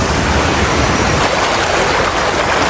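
Swollen Khari stream rushing in flood during rain, a loud, dense and steady roar of churning water that fills the whole stretch without a break.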